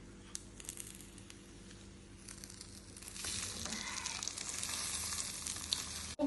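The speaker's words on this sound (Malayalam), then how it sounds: "ഇതിലേക്ക് ബ്രെഡ് പാനിലേക്ക് വെക്കാം." Bread toasting in a frying pan, a low sizzle for the first few seconds that turns into a louder, steady frying hiss about halfway through, ending with a brief clink.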